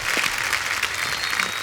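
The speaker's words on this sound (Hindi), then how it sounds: "एक बार राजकुमार और नुसरत के लिए जोरदार तालियां।" An audience on a television comedy talk show claps for two film actors, a continuous moderately loud spread of many hands without a break.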